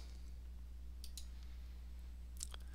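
Faint mouse clicks on a software button, a few light ticks scattered over a quiet, steady hum.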